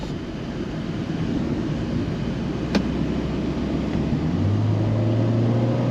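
Fiat 124 Abarth engine running steadily in full manual mode, a continuous low drone with a brief sharp click near the middle and the pitch rising toward the end, heard alone without talk.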